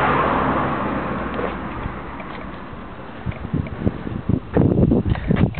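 A 2000 Kawasaki Ninja ZX9R motorcycle with a multi pipe exhaust rumbles low and steady nearby, then throttle blips grow louder toward the end.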